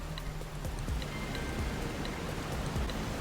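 Steady rain in the video game Skyrim hisses as a continuous dense wash, with faint scattered patter and low rumbling underneath, constant and fairly loud throughout with no voices.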